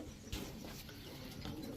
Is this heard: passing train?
no